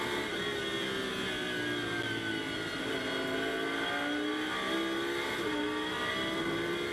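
Lamborghini Super Trofeo race cars take a corner at the Nürburgring in a 2021 race, their engines a continuous loud roar with rising and falling revs and overlapping exhaust notes, and no voices over them.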